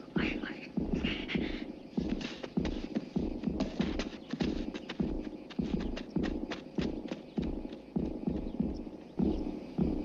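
A horse ridden away at the Sad Hill Cemetery film location from The Good, the Bad and the Ugly, its hooves clip-clopping in a steady, continuous rhythm, with quiet voices in the background.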